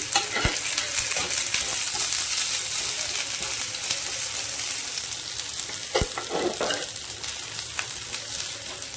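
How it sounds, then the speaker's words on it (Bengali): Spices with cumin powder and chilli powder sizzle and fry in a pan while being stirred, a steady close hiss broken by scraping stirs and a few sharp utensil knocks. "জিরের গুঁড়ো। ভালো করে কষিয়ে নেব।"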